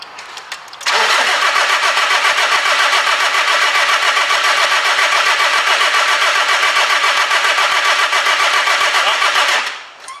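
Diesel engine of a Nissan Navara with a fuel delivery fault, cranking continuously for about nine seconds with a loud, even, rapid churning that stops without ever catching.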